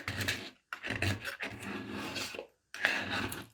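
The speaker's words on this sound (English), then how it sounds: "we'll just use the scraper" Scraper dragged across a Cricut cutting mat, close scraping strokes in several bursts separated by brief pauses, with no talk.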